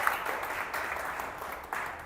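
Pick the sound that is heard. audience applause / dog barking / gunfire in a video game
audience applause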